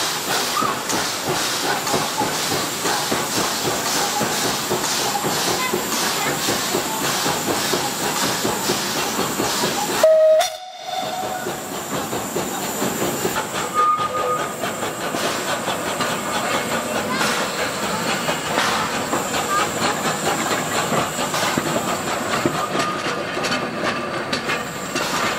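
Historic steam tram in Mulhouse pulls away with a continuous loud hiss of steam and rolling rail noise, a short sharp break midway, then steady running with a faint tonal whistle.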